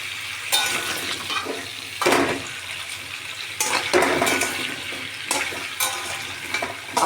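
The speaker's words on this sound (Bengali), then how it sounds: "একটু ভেজে নেব।" Pieces of taro frying with salt and turmeric in a pan, a steady sizzle with repeated scraping and stirring clanks from a spatula against the pan, close by, no talking.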